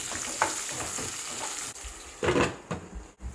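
Potatoes, green beans and green chilies frying in a pot for a one-pot jowar vegetable pulao, a soft continuous sizzle broken by scraping stirs of a spoon against the metal, with no talking.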